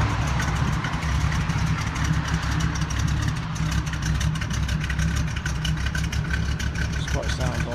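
A 1969 Chevrolet Camaro Z/28 with a built 327 V8 and chamber exhaust idles with a deep, steady low rumble throughout, close and loud, with some faint voices in the background.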